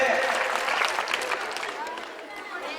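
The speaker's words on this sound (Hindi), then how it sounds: "एक बार इनके सम्मान में भी जोरदार तालियां बजा दे" A live show audience applauds in honour of the police, a broad crowd clapping that starts full and gradually thins and fades over a few seconds.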